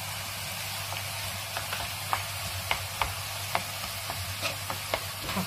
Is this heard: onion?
yes